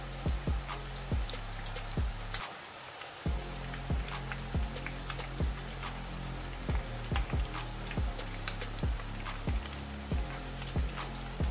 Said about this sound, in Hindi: अब इनको फ्राई होने देते हैं।